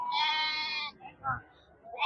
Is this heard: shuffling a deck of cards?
no